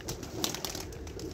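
Soft pigeon cooing from rooftop pigeons with chicks blends into a steady background murmur, with a few brief sharper chirps or flutters rising above it.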